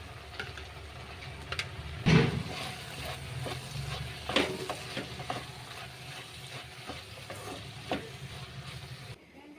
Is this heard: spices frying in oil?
yes